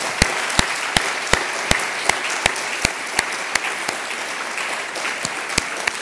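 Applause from an audience at a closing session, a steady wash of hand claps with sharp individual claps standing out at an irregular beat, continuing for several seconds without speech.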